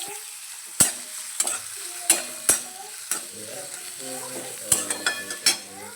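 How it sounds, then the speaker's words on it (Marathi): Chillies and onion frying with whole spices in a pan for masala upma, heard as a soft sizzle under sharp, irregular spatula taps and scrapes against the metal, close and without speech. "आता मिरच्या आणि कांदा पण यामध्ये टाकून घ्यायचा आहे"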